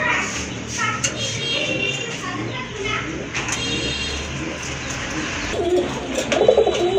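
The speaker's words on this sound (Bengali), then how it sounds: "আরেক জোড়া কবুতর এটা হচ্ছে আপনার সিলভার গডরা কবুতর" Domestic pigeons, among them a pair of silver godra pigeons, coo steadily at a seller's collection of local and foreign breeds. Soft, continuous cooing runs throughout with a voice talking over it.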